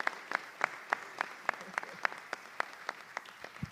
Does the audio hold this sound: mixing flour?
no